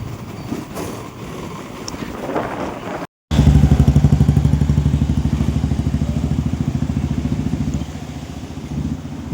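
A motorcycle starts up and rides, its engine thumping in a loud, steady pulsing rhythm close by after a brief cut, with quieter rustling and wind before it.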